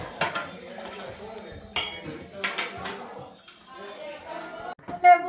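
Ceramic dishes clinking and knocking together as plates are taken out in a home kitchen during a birthday celebration, several sharp clatters spread through the clip under close, lively chatter from adults and a child.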